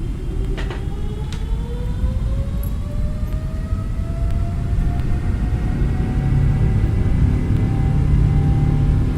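Boeing 777-300ER jet engines spooling up to takeoff thrust in a flight simulator, a loud steady roar with a rising whine that climbs gradually in pitch throughout.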